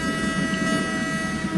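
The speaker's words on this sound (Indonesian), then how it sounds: "Klakson." A train horn in the Trainz railway simulator, a sustained harmonic tone held steadily over the low rumble of a rolling train, loud and close, with no speech.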